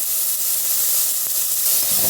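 Loud, steady hiss of curry leaves sizzling in hot oil while cooking jackfruit kurma, a dense spitting sizzle that continues without a break.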